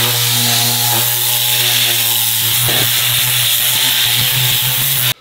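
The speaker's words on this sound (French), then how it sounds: "une fois qu'on a passé le tornado, donc sans produit, bah, ça a permis de souffler un petit peu tout ce qu'il y a sur la moquette" A Tornado air cleaning tool blows steadily and loudly over the carpet of a very dirty car, a continuous rushing hiss with a humming drone that roughens partway through and cuts off at the end.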